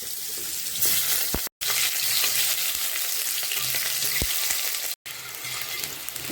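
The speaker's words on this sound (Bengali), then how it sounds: "তেল গরম হয়ে গেছে, আমি আলুটা আগে ভেজে নেব।" Potatoes frying in hot oil in a home kitchen, a steady close sizzle and crackle with brief stirring knocks and two short gaps of silence.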